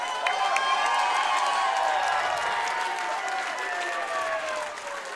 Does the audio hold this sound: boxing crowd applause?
yes